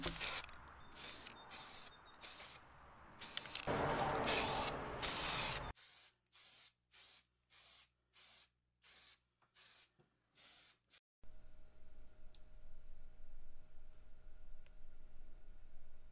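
Aerosol spray cans hiss over a 3D-printed milling machine part being primed and painted: a long continuous spray, then about eight short rhythmic bursts separated by silences, then another sustained hiss, all close up.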